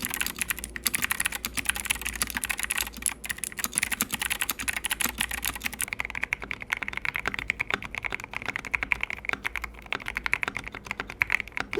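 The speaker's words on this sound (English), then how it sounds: "Let's listen to both boards fully stock." Two budget Epomaker mechanical keyboards, the TH66 and TH80, in stock form with clicky switches, typed on in a fast, continuous stream of sharp close-up clicks and clacks, with no talking.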